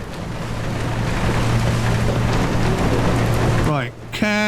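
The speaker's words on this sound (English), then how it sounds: "these are like 2 meter waves at least." Rough ocean waves of about two meters in the ship simulator Seafarer the Ship Sim, a loud, steady wash of surging water with a low engine hum underneath, then a brief break and a tonal game sound at the end.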